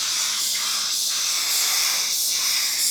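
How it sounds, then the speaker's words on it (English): A Porphis PRD 815 paint spray gun at 21 psi hisses in a steady airy rush while spraying a fender, with slight pulses as the trigger is worked, close and continuous with no talking. "Let's spray the fender, see what it looks like."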